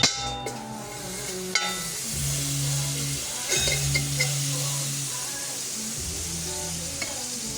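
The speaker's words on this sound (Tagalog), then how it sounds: "sunawin lamang natin ang ating margarine sa ating pinainit na kawali" Margarine melting in a preheated pan, used in place of oil, with a steady close sizzle and some stirring scrapes and metallic clangs from the utensil against the pan.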